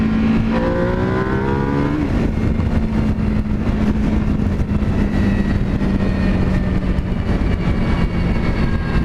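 An EBR 1190RX sport motorcycle cruises on a freeway in second gear, its engine a loud, steady droning roar mixed with heavy wind rush, with pitch sweeping up briefly near the start.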